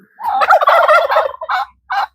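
Close, raspy female turkey calling: a rapid chattering string followed by two short separate yelps, loud and alone.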